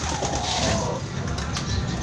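A pigeon coos softly over a steady, noisy background hum at a bird market, with low calls repeating across the short stretch.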